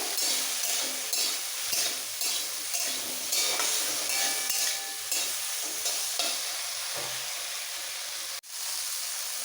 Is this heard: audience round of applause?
no